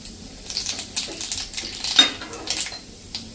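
Dried red chillies, star anise, cinnamon and fennel seeds go into a pan for a brinjal curry, with a steady run of spoon clinks and scrapes on metal over a soft sizzle, close by and with no talk.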